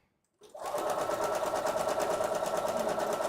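A sewing machine stitches a seam, starting up abruptly and then running at a steady, fast, even hum with a rapid mechanical pulse, close and alone.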